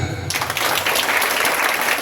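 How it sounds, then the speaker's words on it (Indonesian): An audience at a high school leadership training closing ceremony breaks into applause, a steady, dense patter of many hands clapping throughout, close and fairly loud. "Tepuk tangan."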